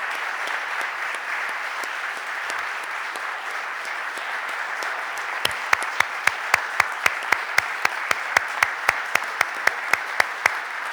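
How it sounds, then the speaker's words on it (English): Applause fills a city council meeting chamber in Philadelphia: a steady wash of crowd clapping, joined midway by sharp, evenly spaced single claps beating a regular rhythm over it. "Let's give these young people and their teachers a round of applause."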